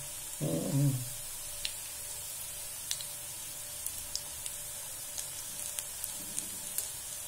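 Pakoda batter deep frying in oil on a low flame, a soft steady bubbling fizz with a louder disturbance near the start and faint scattered clicks of a stirring utensil, no talk.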